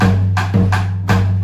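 A 3 against 2 polyrhythm tapped out as a low sustained pulse layered with brighter repeating hits, the two rhythms interlocking across a short loop.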